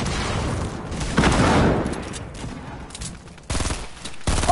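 Bursts of rapid gunfire from a junior gunner enemy in a PS4 shooter game, loud sustained volleys with brief pauses between them, heard alone without talk.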